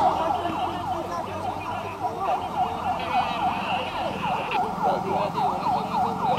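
A fire engine siren wails in a rapid repeating rise-and-fall pattern, loud and close, during an integrated natural disaster response drill at Kodim 0109 in Aceh Singkil, with crowd noise and background talk underneath.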